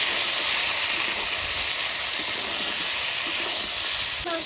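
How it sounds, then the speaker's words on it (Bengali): Fried chicken pieces going into hot cooked-down masala, a loud, continuous hissing sizzle that holds steady the whole time, with a faint clatter near the end. "এবার আমি ভাজা চিকেনটা দিয়ে দেবো।"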